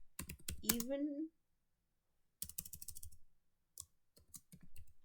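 Computer keyboard typing while writing an even/odd program, quiet close bursts of rapid key clicks separated by silent gaps, with a brief voice sound near the start.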